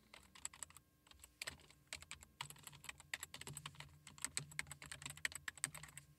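Fingers type on a computer keyboard in quick, uneven runs of light clicking keystrokes, close and quiet, with short pauses between bursts and no speech.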